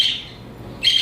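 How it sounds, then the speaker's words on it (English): Pet birds squawk and chirp loudly at people walking past, with a shrill burst at the start, a quieter stretch, then another harsh round of calls near the end. "My birds, they have something to say about it all."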